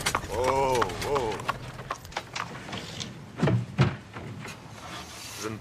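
Horse hooves clop in scattered, uneven knocks on a hard surface at moderate loudness, while people speak over and between the steps.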